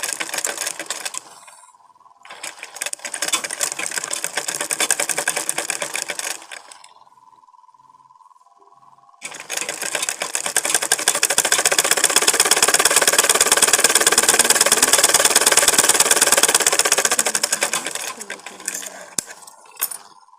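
A sewing machine runs in bursts while stitching a blouse sleeve, its rapid mechanical whir starting and stopping three times with short quiet gaps, the last run long and steady, close up.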